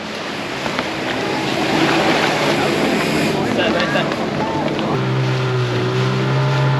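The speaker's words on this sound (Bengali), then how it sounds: "ফাইনালি এই বোট দিয়ে আমরা এখন ওই কুয়া আইল্যান্ডে যাব। খুবই ছোট একটা বোট।" A very small motorboat heads out toward an island off Pangkor, its outboard engine droning loudly and steadily close by amid wind and water noise, the engine pitch settling into a lower, steadier hum near the end.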